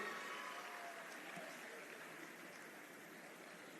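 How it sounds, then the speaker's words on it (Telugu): An audience applauds at a CM's Cup logo, mascot and poster unveiling event, a dense, steady wash of clapping heard from a distance that fades slightly toward the end. "మీరు చప్పట్లు కొడుతూనే ఉంటారు"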